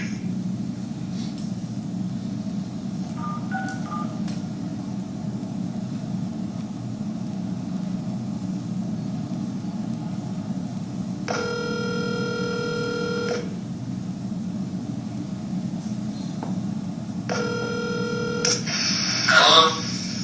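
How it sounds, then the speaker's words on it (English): A telephone call is placed: a few short tones early, then two long, evenly pulsed ringback or dial tones stand out clearly over a steady background hum, with a brief burst of noise near the end. "I can make that phone call now."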